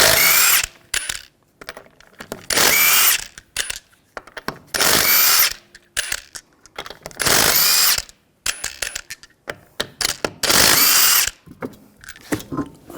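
An impact wrench with a 19mm socket spins the lug nuts off the rear wheel of a 2003-2008 Subaru Forester in about five loud, close bursts of whirring and hammering, separated by brief pauses and small clicks.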